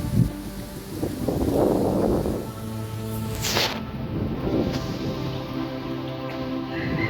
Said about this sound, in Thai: ลมลมพัดแรงมากครับ ตอนนี้ครับ